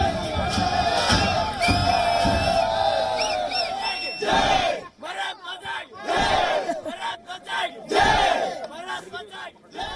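Russian soldiers chant and cheer Bharat Mata Ki Jai in a loud crowd, rhythmic shouted voices rising and falling in waves with whoops and bellows.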